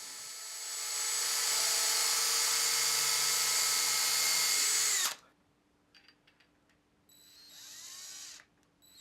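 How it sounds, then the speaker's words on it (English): A power drill whines steadily at high speed for about five seconds, drilling a pilot hole in a bass guitar body for a strap button, then stops, leaving faint clicks and a brief softer whir. "drill a pilot hole before I screw that strap button in"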